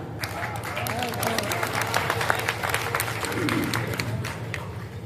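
Audience applause at a Hindi poetry gathering (kavi sammelan) in Sojat City, a steady wash of clapping from a crowd, mixed with murmuring voices and background hum throughout.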